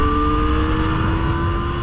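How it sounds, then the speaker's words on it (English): 2025 Kawasaki ZX-4RR motorcycle engine held at high revs on the throttle, a loud, steady, buzzy high-pitched wail that runs for under two seconds with no talk over it. "It's got that thrill and it's got that buzz, especially when you pull that throttle"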